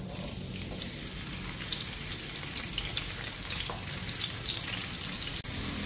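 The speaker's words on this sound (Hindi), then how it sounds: "ऑयल गरम हो चुका है और अब इसमें मैं डाल रही हूँ जी प्याज" Onions frying in three tablespoons of hot oil, a dense, steady sizzle and crackle that runs close and loud throughout, with no one speaking.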